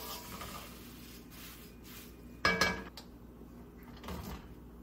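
Fried flattened rice lifted off a heavy wok, quiet scraping and rubbing of a metal utensil against the pan with one sharp clank of metal in the middle, close and fairly faint.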